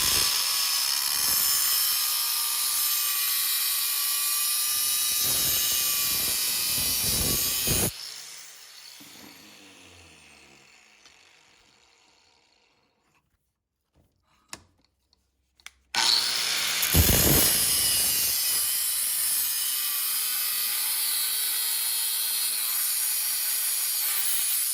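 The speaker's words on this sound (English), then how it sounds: "drill the hole here so I can attach the chain." Power drill boring a hole through a forged steel medieval flail part, grinding loudly in two long bursts with the motor winding down and a few clanks in the quiet gap between.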